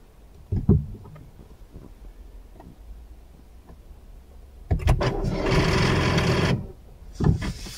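A car's starter motor cranks steadily for about two seconds while the engine fails to catch, preceded by a few clicks and brake-pedal handling noises.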